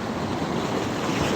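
Waves break and wash in at the beach as a steady, hissing surf roar, close and moderately loud, with wind buffeting the microphone and no talk.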